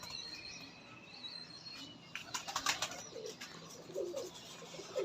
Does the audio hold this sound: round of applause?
no